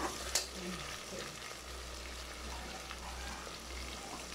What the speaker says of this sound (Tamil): அதையும் போட்டு வதக்கணும்